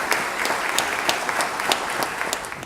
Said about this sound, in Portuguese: pedir uma salva de palmas para os representantes das corregedorias